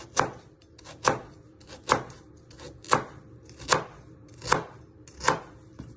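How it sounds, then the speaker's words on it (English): A knife slicing peeled parsnip halves on a cutting board, with seven crisp, evenly spaced chops about one per second, close and clear with no talking. "you first want to chop them down the middle. And then you just want to slice them."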